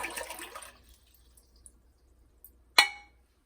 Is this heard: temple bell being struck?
no